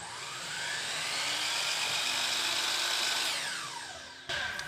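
A DeWalt DWS 780 12-inch compound miter saw runs with a high, steady whine that swells up to speed, holds, then winds down before a brief knock, close and loud with no talk.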